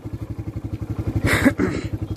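A Yamaha FZ motorcycle engine idles with a steady rhythmic thumping pulse close by, then a brief louder burst of revving or starting noise before settling back to its even idle beat.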